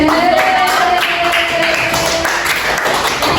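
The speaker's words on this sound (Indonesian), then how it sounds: "tepuk tangan untuk Mbak Neza" A classroom of students breaks into sustained, dense applause for a classmate, loud and close, with a faint voice threading through the steady patter.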